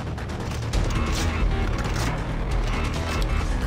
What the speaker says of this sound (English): Okay, I'm just gonna reload.